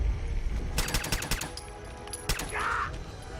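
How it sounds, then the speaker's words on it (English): Gunfire in Fallout 4 video game: several sharp shots crack in quick clusters, some rapid bursts and a few isolated reports, moderately loud over a low background. "we've just been shooting at these dudes from like ages away"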